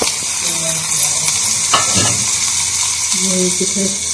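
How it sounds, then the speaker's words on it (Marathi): Onion and mustard seeds crackle and sizzle as they hit hot oil in a Konkan home kitchen, a steady loud frying hiss with stirring clatter and brief soft voices in the background. "कांदो मोहरी टाकते"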